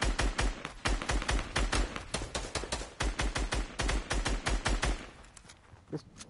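During a fort battle in a video game, rapid bursts of gunfire crackle close and loud in quick succession, then thin out to sparse, quieter shots near the end.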